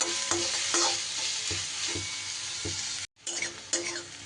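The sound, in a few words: onions frying with salt in pan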